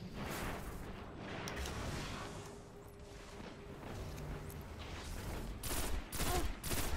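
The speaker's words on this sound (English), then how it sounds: "I like pulse rifles like this." Nirwen's Mercy pulse rifle firing in the Destiny video game, a fairly quiet, dense stream of rapid burst shots running throughout, with sharper, louder volleys near the end.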